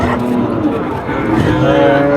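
A heifer among other cattle at a busy village cattle market in Naogaon, Bangladesh, a loud low lowing close by over a dense crowd murmur.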